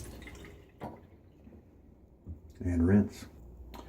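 A razor rinsed in water during a wet shave with a Gillette Sheraton, a short sloshing splash near the end after quiet drips and small handling sounds, close and soft.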